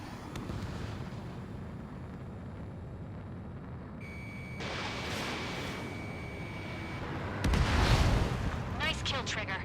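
Explosions of enemy aircraft shot down by missiles in the Ace Combat 7 air-combat video game, several booming bursts rising to a loud blast near the end, with radio voices talking over them.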